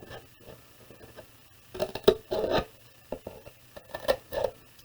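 Scissor tips snip and rasp through paper while a heart shape is cut along a drawn line, giving short, close, irregular cuts separated by quiet gaps.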